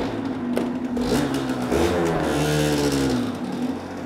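A homemade wheelie machine's engine revs while warming up, with loud, wavering rising and falling engine tones and rough mechanical rumble, near and continuous.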